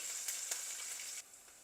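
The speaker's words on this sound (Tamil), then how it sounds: "இப்போ இது கொஞ்சம் வதங்கட்டும் வெங்காயம் கொஞ்சம் வதங்கட்டும்" Onions sautéing in a pan give a brief, close, bright sizzle with a couple of sharp spits, then the sound drops to a softer, steady hiss.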